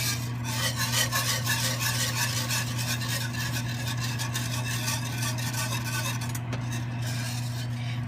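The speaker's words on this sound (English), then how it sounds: "I pretty much will stir this constantly" A utensil scrapes and swirls continuously through thickening milk-based biscuit gravy in a pan, a steady close rasping rhythm over a low hum and faint sizzle.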